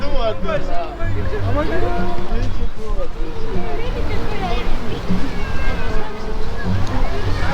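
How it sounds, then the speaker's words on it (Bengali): A tourist boat passes beneath a bridge in Heidelberg, its motor and the sloshing of water carrying steadily, close and fairly loud, under continuous crowd chatter and voices throughout. "Hey, the boat is crossing, man."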